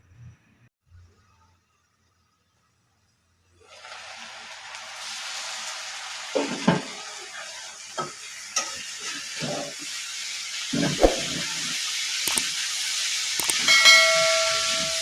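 Cabbage, beans and potato fry in hot oil in a covered pan, a steady broad sizzle that starts after a few quiet seconds and continues under scattered pops and clicks.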